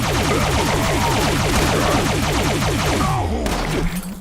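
The Quad Automatic Alien Disintegrator energy weapon in Fallout 76 fires as a rapid, loud automatic burst. The rhythmic shots run steadily for about four seconds, then stop abruptly with a short tail and no talking.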